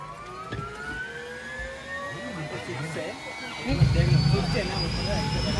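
A helicopter engine starts up for a joyride at the Karkala Utsav festival, its turbine whine climbing steadily in pitch, then a heavier rotor rumble builds in, loud and near.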